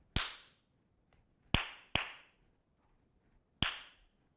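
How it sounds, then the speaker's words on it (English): Four sharp hand claps tapping out a bass drum beat rhythm, crisp and close, spaced unevenly with a quick pair in the middle, each ringing briefly in a quiet room. "First, let's clap that."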